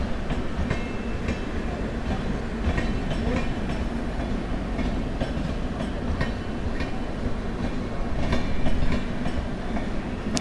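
Passenger train rolling along railway tracks in Delhi, a continuous rumbling roar with rhythmic clacks from the wheels, heard from a nearby local train and growing slightly louder toward the end.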